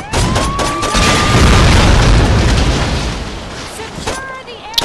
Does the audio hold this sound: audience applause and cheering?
no